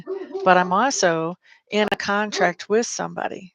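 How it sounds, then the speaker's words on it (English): Dog barking in another room upstairs, a few muffled barks under continuous close conversational speech. "if you can hear the dog barking"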